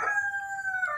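An Aseel chicken crows, a single clear, sustained tonal call held for about a second, close and fairly loud.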